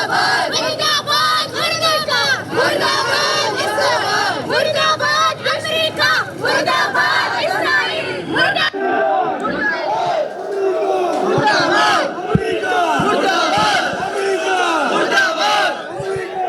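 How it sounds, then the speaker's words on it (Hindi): A street protest crowd, women among them, chants anti-America slogans at a demonstration in support of Iran. The massed voices are loud and continuous throughout, with the crowd's tone shifting partway through. "यहाँ पर अमेरिका मुर्दाबाद के नारे लगाए जा रहे हैं"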